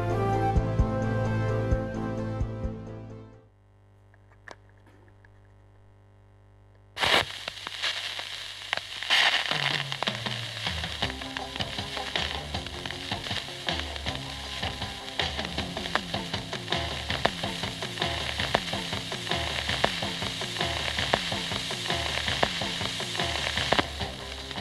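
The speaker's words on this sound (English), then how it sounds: "This is exactly what a record made out of ice sounds like." A record pressed from ice plays on a turntable with a dense crackling hiss like frying. A brief near-silent gap comes first, then steady loud surface noise runs under the music to the end.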